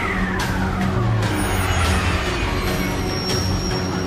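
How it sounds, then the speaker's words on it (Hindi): A cartoon jeep races fast, its engine roaring steadily throughout with tyre skids and squeals layered over the rumble, loud and close with no pause. "अरे वहाँ गाड़ी तेज भगाओ रे"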